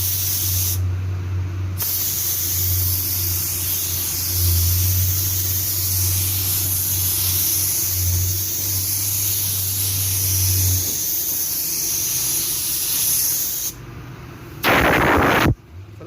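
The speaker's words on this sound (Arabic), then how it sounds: "هنا بعد الفلاش تايم يا رجاله كلير كوت، ننزل بالورنيش" Loud continuous hissing of a spray gun laying clear coat varnish onto a car panel, with a low hum beneath for most of the run, broken by short pauses and a sharp burst near the end.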